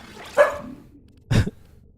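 A female dog gives two short, gruff barks, close and fairly loud, about a second apart with quiet between them.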